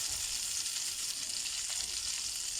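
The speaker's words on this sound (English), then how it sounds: "I have a stick of butter which I have been letting melt in a pan. And to that I'm going to be adding a dry chili" Dry chili and spices sizzling in a pan of melted butter, a dense, steady hiss of frying that stays even and close throughout with no voices.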